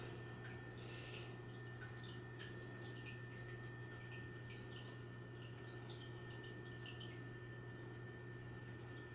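Water runs steadily through the filter of a 10-gallon fish tank, a faint, continuous trickle over a low electrical hum, unbroken for the whole stretch and without voices.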